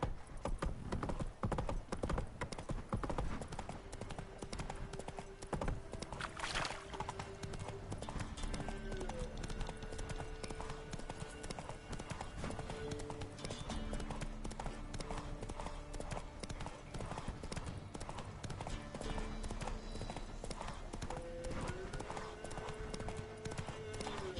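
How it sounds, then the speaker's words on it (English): A horse gallops with rapid, steady hoofbeats throughout The Witcher 3, close and continuous, over a busy game soundscape with background music. "Run, Roach."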